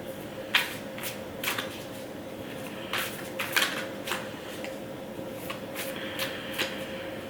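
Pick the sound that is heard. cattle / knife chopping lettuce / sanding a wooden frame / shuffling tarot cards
shuffling tarot cards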